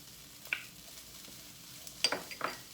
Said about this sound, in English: Then we're going to add our green pepper that has been washed and diced, half a medium onion that has been washed and diced